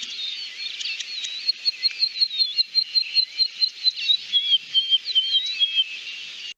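A desert cisticola's high, thin call repeats as a rapid series of sharp whistled notes, clear and alone against a quiet background in South African grassland.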